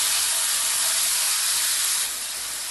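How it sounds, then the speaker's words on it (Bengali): Prawns seasoned with black pepper and salt fry in hot oil, giving a loud, continuous sizzle that drops a little in level near the end, with no talking. "চিংড়ি মাছটাও এরকম হালকা করে ভেজে তুলে নেব"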